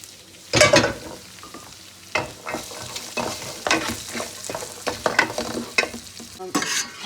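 Onions sizzle in a frying pan for beef fried rice while a utensil stirs and scrapes in irregular bursts, the sizzle rising briefly as beef goes in; no one speaks.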